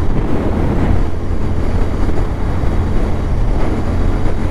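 Royal Enfield Continental GT 650 motorcycle cruising on a highway in sixth gear, a steady loud engine drone blended with heavy wind rush across the whole stretch, no voices.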